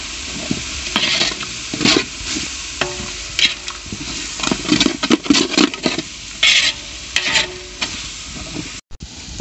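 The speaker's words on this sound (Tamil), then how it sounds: "நம்ம போட்ட மசாலா எல்லாமே நல்லா வதங்கி போச்சு." Masala of chili powder, onion, ginger, garlic frying in a pan for chicken biryani, stirred with repeated scraping strokes over a steady close sizzle, with a brief dropout near the end.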